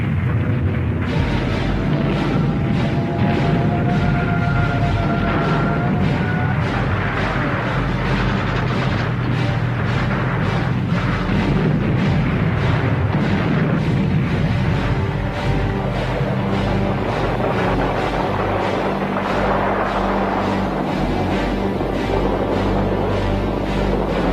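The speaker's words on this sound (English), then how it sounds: "the Germans had moved within artillery range of the city and had started a fierce bombardment" Artillery bombardment of a city by German guns during the Second World War: a dense, continuous barrage of heavy booms and deep rumbling that rolls on without pause.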